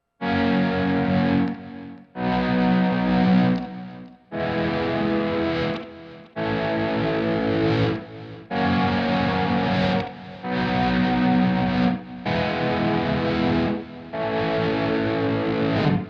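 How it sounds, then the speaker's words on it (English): Electric guitar played with volume swells through a chorus pedal, eight smooth fade-in chords each rising from silence and cutting off, evenly spaced about two seconds apart, close and full with a slightly distorted, shimmering synth-like tone. "to mimic that kind of synth sound, I usually like to put on like a chorus pedal, and I'll play those with volume swells like this"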